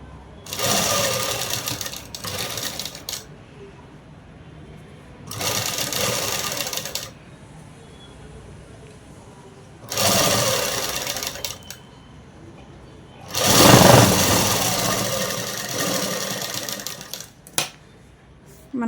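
Cloth runs through a sewing machine in four separate bursts of rapid, rhythmic stitching, loud and close, with quiet pauses between the runs.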